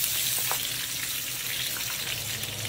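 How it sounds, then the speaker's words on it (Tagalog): Pork belly, seasoned with salt and pepper, browns in a frying pan with a constant close sizzle and crackle, with no talk. "Ikakayumanggi natin yung pork bilbil."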